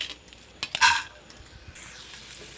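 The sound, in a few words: chana dal being stirred and roasted in a pan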